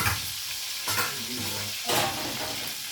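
Salted mackerel tuna frying in oil in a home kitchen pan, a steady broad hiss throughout with two brief louder bursts of sizzle and scraping as the fish is moved, no talk.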